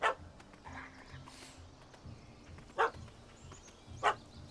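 A puppy in the video game The Witcher 3 gives a few sharp, separate barks spaced a second or more apart over a quiet background hum, moderately close, with no talking.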